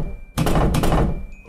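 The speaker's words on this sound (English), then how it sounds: "that thumping sound is getting on my nerves" Heavy muffled thumping, a dense burst of dull thuds with a couple of stronger blows, loud and close, lasting about a second before fading to quiet.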